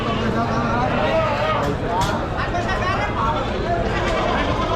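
Sheep and goats bleat repeatedly across a busy livestock market in Chakan, Maharashtra, dense overlapping calls over a constant crowd din with people talking nearby.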